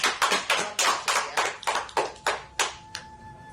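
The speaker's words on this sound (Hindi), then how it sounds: "तालियों से एक बार फिर इनका सम्मान दिया जाएगा।" Rhythmic clapping at a Republic Day poetry recital, a dozen or so sharp claps in an even beat, close and loud, fading out at the end.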